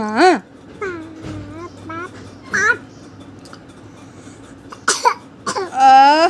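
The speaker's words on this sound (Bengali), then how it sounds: "আহা কাশি হয়েছে কাশি হয়েছে" A child coughs a few times in short bursts between small vocal sounds and whimpers, close and fairly loud against a quiet room.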